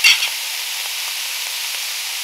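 Meat frying in a pan with onion, garlic, black pepper, turmeric and cumin for stuffed bell peppers, giving a steady, close hiss with a brief louder sputter at the start.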